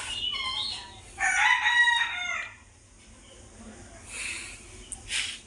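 Backyard chickens and a rooster, three hens and one cock, clucking and crowing close by, with a loud burst of crowing in the middle and fainter squawks near the end over quiet background.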